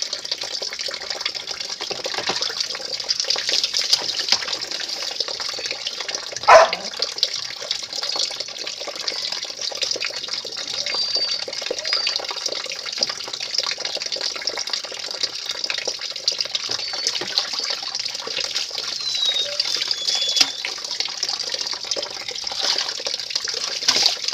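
Water pours and splashes steadily while someone bathes outdoors beside a house, a continuous gushing stream with one brief louder splash partway through and no talking.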